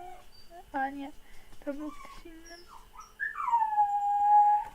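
A dog suffering from separation anxiety whimpers and lets out a rising, drawn-out howl near the microphone, mixed with short yelps while a person talks over the start.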